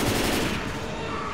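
Rapid gunfire from the Left 4 Dead zombie shooter, a dense burst of shots packed close together with steady loudness throughout the short moment.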